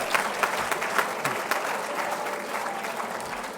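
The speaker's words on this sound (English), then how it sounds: "I think that deserves a round of applause in itself" At a volunteer awards ceremony, an audience in a room breaks into steady applause for a Lifetime Achievement Award, with the claps dense and moderately loud across the whole short stretch.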